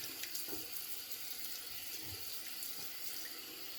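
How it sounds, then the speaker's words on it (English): A faucet runs steadily into a sink, a soft continuous hiss of flowing water without any voices. "rinse out the sink a bit."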